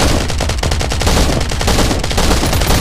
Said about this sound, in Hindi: भाई ये ऑटो कैनन लेके आया बंदा।